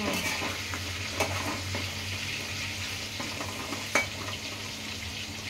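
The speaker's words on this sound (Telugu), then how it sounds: "ఈ బొక్కలు ఫ్రై కావాలి, ఉడకాలి మంచిగా. బొక్కలు వేసుకొని ఆయిల్ బాగా." Mutton bones frying in hot oil for a spicy mutton dish, giving a steady close sizzle with occasional stirring clatters and a sharp utensil knock near the end, with no talking.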